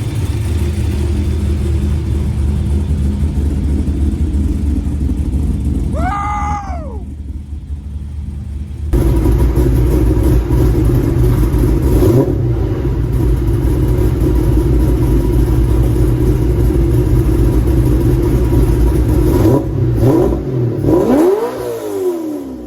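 Methanol-fuelled EcoBoost engine in a Nissan 240sx running steadily, a loud, rough rumble that holds through the clip with a few sharp revs, recorded close up with faint voices in the background.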